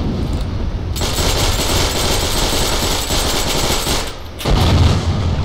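Thompson submachine gun firing in the video game Heroes and Generals, two long, loud, rapid bursts of automatic fire separated by a short pause, close and with no talking.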